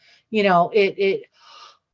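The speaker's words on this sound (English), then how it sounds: "I didn't mean to yawn right in the middle of that." A person yawns mid-lecture, one voiced drawn-out yawn close to the mic that trails into a softer breathy exhale.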